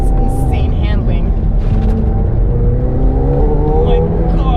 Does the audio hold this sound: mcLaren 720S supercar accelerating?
yes